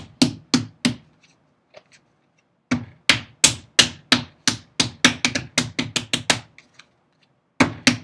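Sharp, hollow thumps of a hand striking a clay slab to flatten it further for a bas-relief textured tile, a quick burst of three, a pause, then a long run of about a dozen fairly loud blows and two more at the end.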